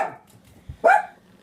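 Dogs bark in short bursts indoors, one loud bark standing out near the end after a quieter yelp at the start.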